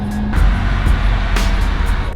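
A Porsche 997.1 GT3 RS with its Metzger engine runs loud and close, a raw mechanical roar with a brief rise in pitch midway.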